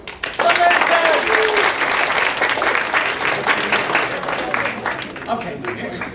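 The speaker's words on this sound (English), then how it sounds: "Applaud!" An audience at a youth forum stage event breaks into sustained applause, a dense wash of clapping that swells quickly and then slowly thins over several seconds.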